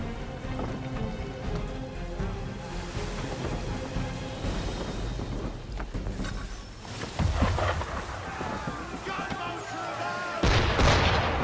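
Heavy ship cannon fire booms in Assassin's Creed 3, distant rumbling blasts over a stormy, rain-like ambience that grow louder and closer near the end, with faint voices.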